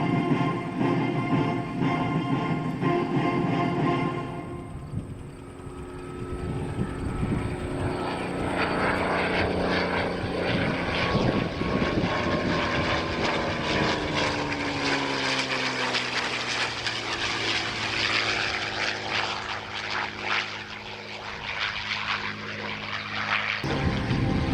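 A P-51C Redtail Mustang propeller plane at the 2024 Rochester airshow sweeps past with a loud, sustained engine roar that swells and shifts in pitch as it passes, steady and dominant throughout with no talk.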